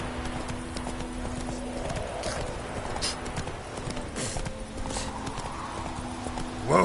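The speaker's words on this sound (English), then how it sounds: "Whoa there, Roach" Horse hooves clip-clop at a steady trot on a road in The Witcher 3, with a brief whinny near the end, alongside game ambience.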